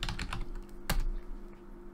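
Keyboard typing on a computer while renaming a layer in Photoshop, a quick cluster of key clicks followed by one sharper keystroke, close and fairly quiet over a steady background hum.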